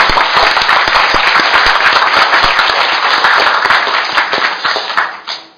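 Loud, dense applause from a crowd at a political rally, steady sustained clapping with sharp individual claps poking through, tapering off in the final second.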